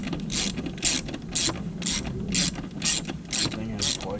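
A ratchet wrench fitted with a wobble socket clicks in steady back-and-forth strokes, about eight bursts, while working on the lift fuel pump of a 2006 Mercury Optimax 225 outboard, close and clear with no speech.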